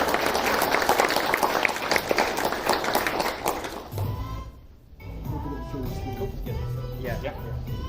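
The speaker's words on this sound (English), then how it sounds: "Let's give Lee a round of applause." A room of attendees at a tech developers' meetup applauds a presenter coming forward, a lively burst of clapping for about half the time that then dies away into quieter room noise and shuffling, with some voices.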